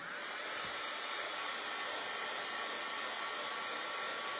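A hair dryer blowing steadily over wet paint on a mandala coloring board, a constant loud whooshing hum with no pauses and no talking.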